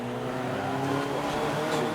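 Audi TT TDI race car with a big rear wing, racing in a 750MC Roadsport event at Snetterton, heard as a steady, fairly distant engine drone with no distinct passes or peaks.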